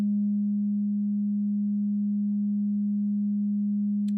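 A steady, pure resonant tone rings out from the filter of a Joranalogue Collide 4 synth module at a workshop, holding constant at one pitch for several seconds, with a faint bright click near the end.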